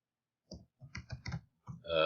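Computer keyboard tapped in a few quick clusters of soft, close clicks, with brief pauses between them, then a louder sound at the very end.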